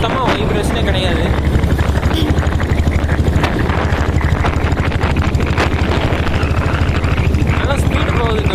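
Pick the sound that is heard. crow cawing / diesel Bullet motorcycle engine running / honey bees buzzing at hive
diesel Bullet motorcycle engine running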